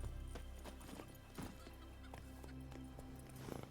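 Roach the horse clip-clops in The Witcher 3: Wild Hunt, a quick irregular run of hoof strikes on hard ground, with a low hum running under the whole clip.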